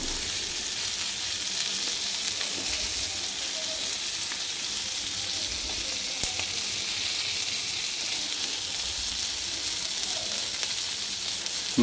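Sarputi fish frying on a large tawa gives a steady, close sizzle that holds evenly throughout with no voices.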